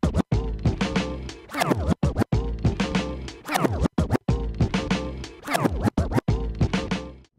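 Rapid DJ scratching on a snare sample, repeated in quick doubled strokes with short cuts between them, loud and rhythmic.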